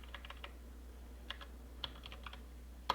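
Password typed on a computer keyboard, with a few light, irregular keystrokes in quick clusters and a louder final key press, close and quiet over a low hum.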